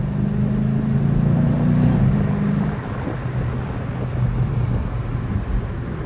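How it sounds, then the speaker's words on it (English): Inside a new Dodge Charger under way, the engine drones steadily, climbs briefly, then drops at a gear change before settling into a lower hum, with road and wind noise throughout and no talking. "One thing I do like about this car is how it sounds when it shifts."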